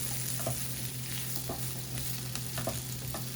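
Zucchini and squash sizzle in butter in a pan, with a continuous crackling hiss and a few light scrapes from stirring, close and steady, over a faint low hum.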